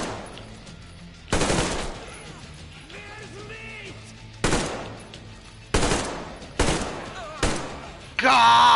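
Bursts of gunfire in Metro Exodus, about five loud, sharp volleys spaced a second or so apart, each fading in a short echo, with quieter game sounds between them and a final burst at the end.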